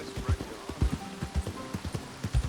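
Horse hooves clip-clop in a steady, near rhythm of about a dozen thuds while riding into the stables at Valentine in the rainy game world of Red Dead Redemption 2, with patter and a faint tonal hum underneath.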